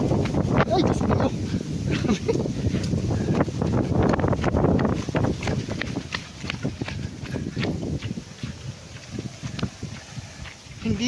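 Strong gusty wind blows ahead of a typhoon, with loud, buffeting wind noise on the microphone and irregular knocks and rattles, while a person talks over it.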